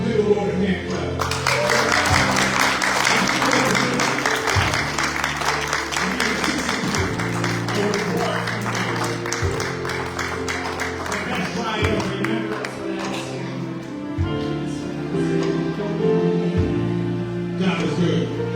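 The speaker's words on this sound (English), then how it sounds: "Give the Lord a hand clap." A church congregation clapping for the Lord, a sustained burst of many hands in a roomy hall while music with a steady bass beat plays underneath.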